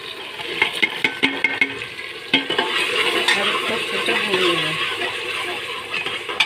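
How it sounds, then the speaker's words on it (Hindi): Tomatoes with chillies drop into a hot pan, followed by a few sharp utensil knocks, then a steady sizzle and scraping stir close by, with faint talk in the background. "यहाँ पर अब हम इसमें थोड़े से टमाटर डालेंगे, मिर्च समेत"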